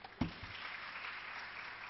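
Applause from a media summit audience for someone speaker, a faint, steady patter of clapping with one sharper thump near the start, distant and continuous for the whole moment.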